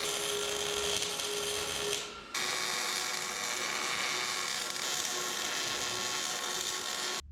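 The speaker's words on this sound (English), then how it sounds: "We're welding now" Welding on coil-over mount tabs for a 1967 Toyota Stout, a steady, close crackling hiss with one short break near two seconds before it resumes, no talk.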